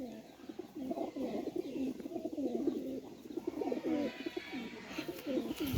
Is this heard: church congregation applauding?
no